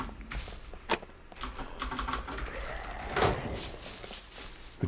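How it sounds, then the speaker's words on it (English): Lockpicking a door in a video game, a run of quick small clicks and taps with a few sharper knocks, moderately faint and steady over a low background. "Bit of speed lockpicking."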